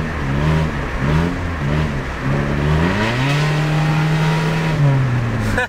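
A straight-piped Nissan Sentra engine revs up and holds a steady, loud drone close by, the pitch climbing then settling, with no talking.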